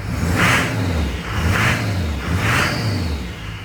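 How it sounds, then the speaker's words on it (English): A Duramax diesel pickup truck engine with a running problem, revved with throttle three times in succession, each rise a loud, close rumbling surge with whooshing air before easing back to idle. "See how it sounds when we give it a little throttle."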